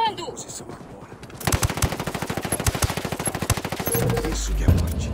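Sustained automatic gunfire in Ghost Recon Wildlands, a rapid steady rattle of close shots running several seconds with an explosion-like thump toward the end and voices calling out over the chaos.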